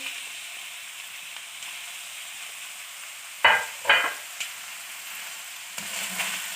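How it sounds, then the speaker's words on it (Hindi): Capsicum and cabbage stir-frying in a pan for Chinese rice give off a steady low sizzle, broken by a few louder scraping bursts as the vegetables are stirred. "3 से 4 मिनट हम वेजिटेबल्स को फ्राई करेंगे मैक्सिमम"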